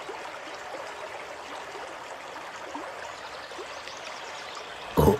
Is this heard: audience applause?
no